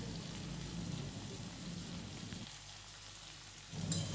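Dried chili and turmeric frying in hot oil, a continuous soft hissing sizzle that thins briefly partway through, then swells again at the end.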